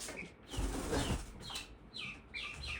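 Young chicks flapping their wings close by, soft fluttering bursts repeating with faint chirps mixed in and no talking.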